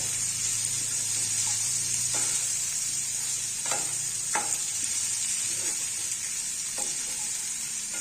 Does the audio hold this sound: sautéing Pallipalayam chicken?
yes